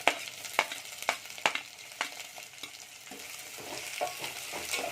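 Beans, carrots and potatoes frying for vegetable pulao crackle in a hot pan, with a run of sharp, evenly spaced stirring clacks early on before the sizzle settles into a denser, steady hiss.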